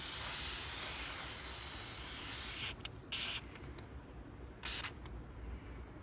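White lithium grease sprayed from an aerosol can onto a part of a Toyota Corolla hybrid during servicing: a long steady hiss, then several short bursts, close and fairly quiet.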